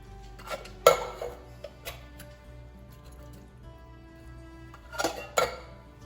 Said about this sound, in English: Just gonna mix all that up